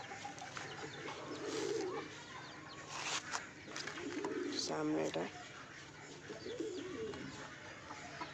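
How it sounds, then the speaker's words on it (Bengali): Pigeons in a coop give soft, repeated cooing and some wing flutters at close to middle distance, with a person talking intermittently over them. "তারপর আমাদের পায়রাগুলো সব এখানে আছে"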